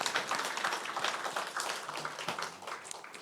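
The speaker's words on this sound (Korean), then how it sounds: "우리 하나님께 영광의 박수 한번 올리도록 하겠습니다" Church congregation applauding during a Sunday service, a fairly faint, uneven patter of many hands clapping, slightly fading toward the end.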